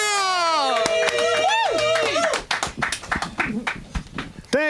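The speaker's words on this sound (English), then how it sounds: "Biggest round of applause of the whole night." A comedy show audience claps and cheers loudly as a comedian takes the stage, with strong continuous applause at first that breaks into scattered clapping and voices, then a final burst.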